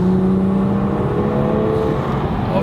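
A Toyota Supra mk5 fitted with a new exhaust and intake drones steadily in a sustained rev, a dense low rumble heard from inside a well-insulated cabin, loud and continuous.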